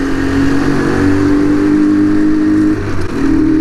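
A moped engine running and revving close by, a loud buzzing drone that holds steady before briefly dipping and picking back up.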